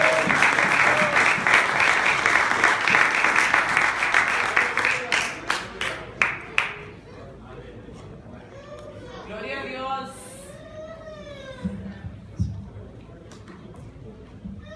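A church congregation claps and applauds at a Spanish-language service: dense, loud applause that thins into scattered claps, followed by a preacher speaking.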